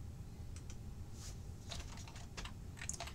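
Fast typing on a computer keyboard, a quiet, continuous clatter of key clicks over a low background hum, with no voices.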